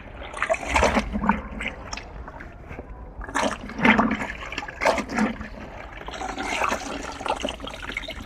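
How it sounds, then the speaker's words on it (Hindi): A cloth is dipped and swished in a bucket of water, producing irregular close sloshing and splashing with bursts of dripping. "अब हम इस कपड़े को दोबारा फिर से हम बाल्टी के अंदर उस पानी में"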